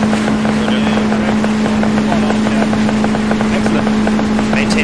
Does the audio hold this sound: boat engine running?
yes